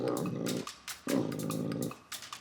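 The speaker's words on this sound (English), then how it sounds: "it's a bit scary when he's barking in your face like that" A large 12-stone Great Dane growls close up indoors by a bed: two long, deep rumbling growls followed by a few short, sharp barking bursts.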